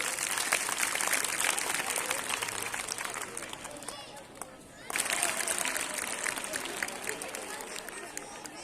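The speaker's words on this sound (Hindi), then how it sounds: "बेटा एक बार जोरदार तालियां बजा दो" Sustained, loud clapping from a group of schoolchildren at a classroom National Mathematics Day celebration, with a brief dip in the middle before the applause surges back, thick crowd noise throughout.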